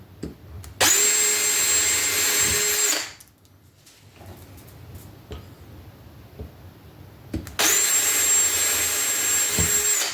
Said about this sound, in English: what we're going to do is run screws in to keep it from spinning